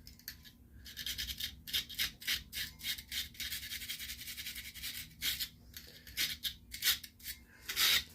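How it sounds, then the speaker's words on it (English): An electric drill spins a non-scratch pad against old pins on a 1980 AMI jukebox, giving close, choppy bursts of scrubbing and rasping in an uneven rhythm, with no voices. "Take a drill for one of these non-scratch pads and just clean these pins up as good as I can get"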